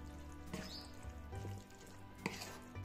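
Potato pancake batter, with half a small spoon of baking soda just added, is stirred in a bowl, giving soft intermittent scraping and clinking with a few sharper knocks against the rim, faint and close.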